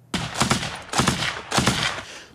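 Gunfire on the Ukrainian front in snowy conditions, three sharp bursts of automatic fire about half a second apart, each followed by a short ringing echo tail, loud and close.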